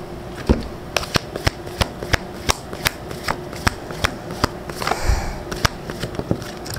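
Tarot card deck being shuffled by hand, a regular series of crisp riffling snaps roughly every half second, close and clear with a brief flurry near the end.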